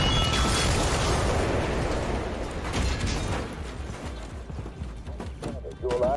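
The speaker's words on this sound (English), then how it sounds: "those rocket explosions were kinda wimpy" A loud burst of rumbling rocket explosions in the mobile video game Battlefield Mobile fills the opening seconds, then fades into crackling, clattering debris with scattered sharp impacts near the end.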